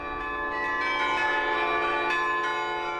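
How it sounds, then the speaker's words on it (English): The Carillon concert bells of the historic Plummer Building in downtown Rochester ring in sustained, overlapping tones, loud and resonant, several strikes blending into a rich chime with no talking. "The Carillon concert bells have echoed across downtown Rochester for 85 years."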